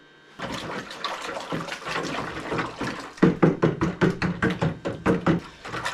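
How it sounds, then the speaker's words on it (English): Fertilizer being stirred into water in a bucket for feeding tomato seedlings: continuous sloshing, then a run of about a dozen rhythmic swishing strokes with light knocks against the bucket walls, close and fairly loud, with no talking. "When I stir it, I know the fertilizer is going into the center of the bucket in the bottom that hasn't dissolved yet."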